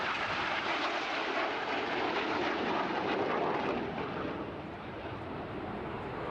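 Loud, continuous roar of RAF Red Arrows jet engines at high throttle during an air display, broad and steady throughout with a slight dip near the end, no talking.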